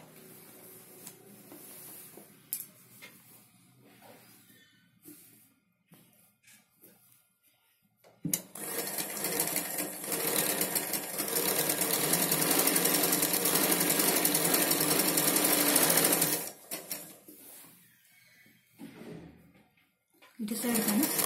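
Sewing machine stitching Punjabi dress pants, running in a loud sustained burst of about eight seconds between quieter stretches with brief starts and stops, while a voice speaks during the pauses.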